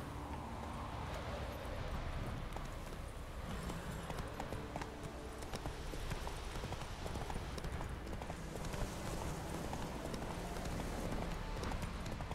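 Hooves of Roach, a horse in a video game, clop in a steady, fast, continuous rhythm close by, with faint game ambience underneath.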